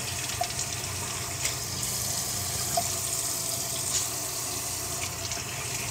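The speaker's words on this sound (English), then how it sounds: "so I'll just give this a quick rinse" Warm water runs from a tap in a steady, close gush as a plant is given a quick rinse beneath it, with no voices.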